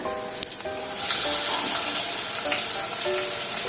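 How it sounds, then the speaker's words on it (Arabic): Chopped onion frying in a pan for Palestinian mujaddara, a steady close sizzle that swells louder after the first second and keeps hissing evenly throughout, with faint clinks underneath. "هنحمرها كويس قوي"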